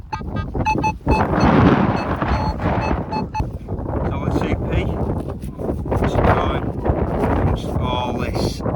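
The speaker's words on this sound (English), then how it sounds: "Try my best to keep you out of the wind." Wind buffets an outdoor microphone during metal detecting in an English field, a loud continuous rumbling roar with gusty swells and occasional thumps.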